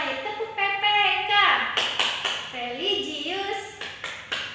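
Classroom of students performing the Tepuk PPK rhythmic clap, sharp patterned bursts of hand claps between children chanting in unison, close and moderately loud.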